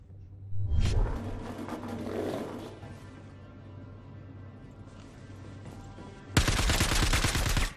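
Gunfire in a free-for-all video game match, with bursts of loud rapid shots at the start and a sharp, dense volley near the end, separated by quieter rumbling game ambience.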